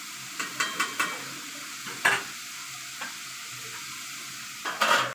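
Spoon stirring tomato curry in a pan, several quick scraping clinks in a cluster, then single strokes and a final burst, over a low steady sizzle.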